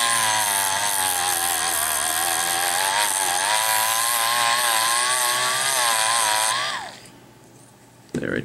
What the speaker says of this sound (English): What I'm going to do is buff this part too